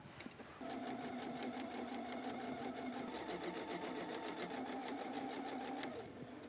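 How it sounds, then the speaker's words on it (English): A sewing machine in free arm mode stitches around a bucket hat, running steadily at a fast even rate for several seconds with a brief pause at the start and a stop near the end, close and alone. "I'm going to take the end off my sewing machine, set it aside so that I've got my free arm here"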